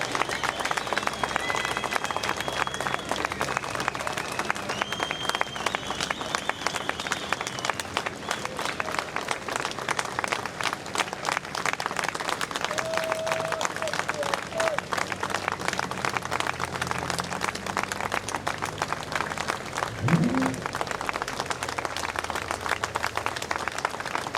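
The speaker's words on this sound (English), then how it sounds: "the applause rings out again as the cortège begins to make its way through Manchester" A crowd applauds continuously along the route of boxer Ricky Hatton's funeral procession through Manchester. The steady clapping is dense and sustained throughout, with some voices in the crowd.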